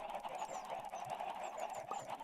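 Chickens cluck in the Minecraft video game, a dense flock of repeated clucks and soft squawks overlapping continuously at low volume.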